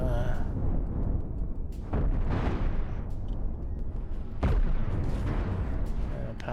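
Ship cannons in the Cosmoteer space game fire in repeated booming volleys over a dense, rumbling battle din.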